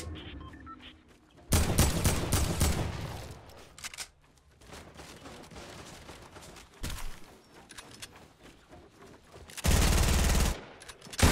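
Loud bursts of automatic gunfire erupt twice in Fortnite, separated by quieter stretches of muffled game sounds and scattered clicks.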